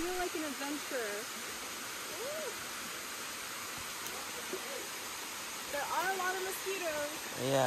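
Waterfall at a tourist site in Chiang Mai, a steady broadband roar filling the whole stretch, with people talking over it.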